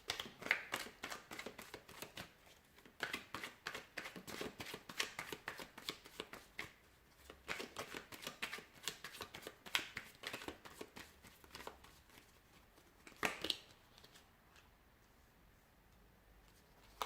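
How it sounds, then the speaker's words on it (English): Tarot cards being shuffled repeatedly, crisp riffling bursts and soft slaps in an irregular rhythm, close and fairly quiet, with brief pauses between shuffles. "we'll give the cards a shuffle"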